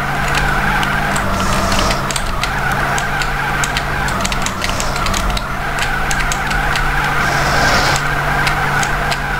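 Tires squeal continuously as a car drifts hard through a corner in GTA San Andreas, with a steady loud engine drone underneath and no pauses across the stretch.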